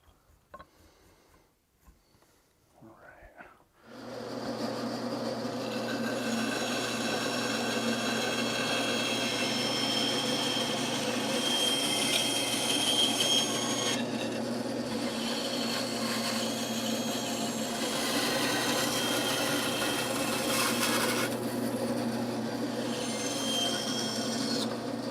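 A power tool trims a wooden hatchet handle to shape. After a few quiet seconds, a steady, humming motor drone runs continuously with a grinding cut layered on top, with no voices.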